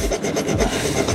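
A multitool's diamond file rasps back and forth across a blade in a loud, close, continuous gritty scrape with a slight rhythmic pulse of strokes and no voices.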